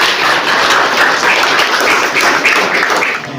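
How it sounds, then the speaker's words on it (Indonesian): An audience at a police training event claps together loudly at close range, a busy mass of overlapping hand claps that fades slightly at the end. "Tepuk tangan dulu."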